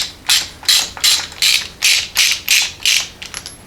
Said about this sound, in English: I'm going to take my 13/16 socket and we'll remove it here.